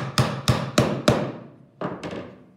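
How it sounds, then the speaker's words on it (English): Hammer tapping a wooden dowel flush into a board for a perpetual calendar: four sharp, evenly spaced knocks, then a pause and two lighter taps, close and clear with no talking. "tap my dowel into place with a hammer until it is flush and even with the back side of my board"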